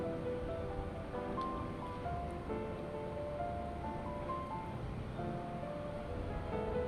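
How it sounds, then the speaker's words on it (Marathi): Poha flakes are washed in water, making a continuous soft swishing and sloshing wash that stays even throughout at moderate loudness, with faint tonal sounds in the background. "ते आधी पाण्याने स्वच्छ धुवून घेऊया."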